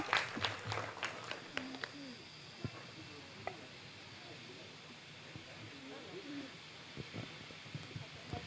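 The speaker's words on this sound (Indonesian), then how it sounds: "Beri tepuk tangannya yang meriah, ibu-ibu." An audience of women claps for a presenter at a Mother's Day celebration held by Geo Dipa, with a burst of scattered applause at the start that thins out quickly. Sharp isolated claps and murmured talk follow underneath.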